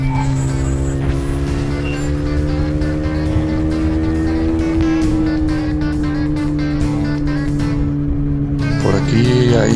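A motorcycle engine drones steadily while riding, running hot, with a sustained tonal hum and road rumble throughout, close and loud.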